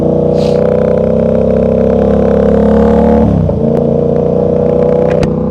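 A 1000cc motorcycle is ridden over concrete, its engine a loud, steady close drone that briefly dips and shifts in pitch partway through before settling again, with a couple of sharp clicks near the end.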